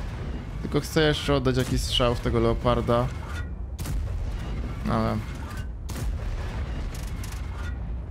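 Waffenträger auf E 100 tank destroyer's gun in a video game, firing a few sharp booming shots that ring out amid game noise while someone talks over the first half.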